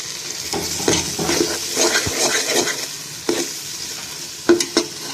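Tomatoes sautéing in a pan for a chickpea gravy, giving a steady close sizzle broken by scraping stirs and soft knocks of a spoon against the pan, with no voices.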